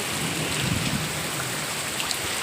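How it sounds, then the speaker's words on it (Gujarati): Heavy monsoon rain pours down steadily, a dense, loud, even roar of drops on surfaces with a low rumble underneath and no talking. "અમારે તો આવો વરસાદ છે આજનો"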